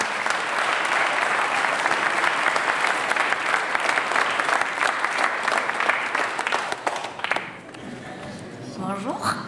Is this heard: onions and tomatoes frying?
no